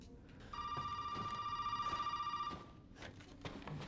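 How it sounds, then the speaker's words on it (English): A telephone rings steadily for about two seconds in Resident Evil VII, a bright electronic bell tone over low background ambience, then stops. "I will answer that phone momentarily."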